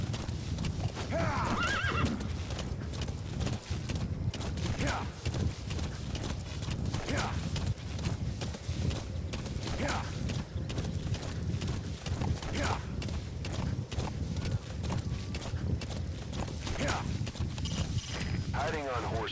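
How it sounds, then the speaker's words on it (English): Horse hooves clip-clop steadily at a gallop in Metal Gear Solid V, with repeated whinnies and snorts rising above a dense, continuous game soundscape; a voice speaks over the scene throughout. "Hiding on horseback allows you to stay out of sight even while on the move"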